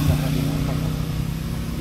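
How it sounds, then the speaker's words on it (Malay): A loud, steady Aveta Vanguard 250 motorcycle engine drones close by, with a low engine rumble that holds throughout and a faint voice mixed in. "Motor ni boleh tahan bunyi kan?"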